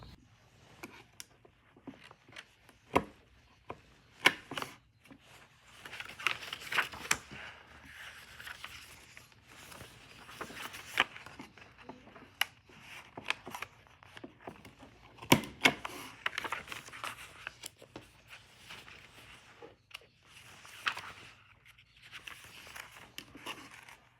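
A Hobonichi Cousin planner is cut down to B6 size, giving quiet, intermittent crisp scrapes and clicks with short pauses between them and no talking.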